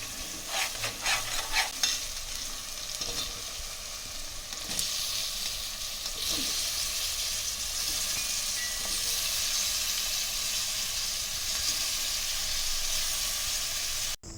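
Quarter kilo of tomatoes sizzling steadily in a pan for aloo kurma, with scraping stirs clattering early on, then a continuous loud fry hiss carrying on alone to the end.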